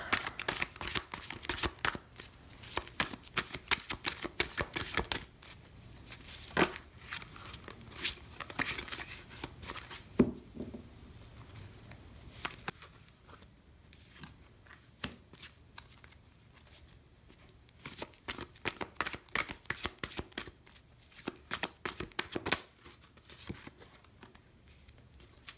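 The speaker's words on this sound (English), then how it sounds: "Let's just shuffle out some cards." Psychic Tarot of the Heart tarot cards being shuffled by hand, quiet close riffling and patting bursts in irregular clusters with softer pauses between, continuing on and off for about 25 seconds.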